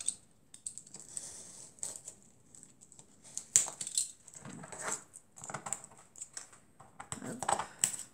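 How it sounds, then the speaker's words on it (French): A utility knife cuts through craft material for a Playmobil dollhouse bathtub. Faint, uneven scraping strokes and small clicks come close up and in irregular bursts, with no talking. "On va couper au cutter parce que ça sera un peu plus droit."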